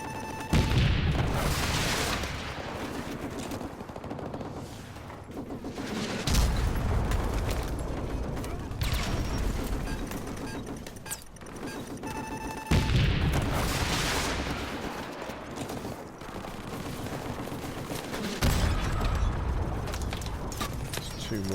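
Repeated booming explosions from tanks being destroyed in a PS4 video game, loud heavy blasts in several waves with rumbling mechanical noise between, a voice briefly over the action.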